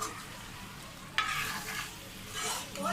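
Finely chopped onions fry in a pan as they brown for chicken biryani, a close, steady sizzle broken by a sharp stirring scrape and swelling crackle.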